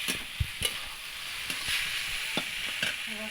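Pre-boiled noodles stirred in an oiled pan for chow mein, with soft sizzling under scattered scrapes and clacks of the spatula against the pan, close and fairly quiet.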